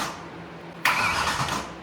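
A BMW E92 M3 V8 being started for the first time after major engine repairs, with a sudden broadband roar cutting in after a quiet stretch and holding steady as it settles to a rough idle.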